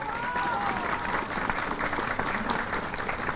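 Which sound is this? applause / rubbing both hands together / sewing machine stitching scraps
applause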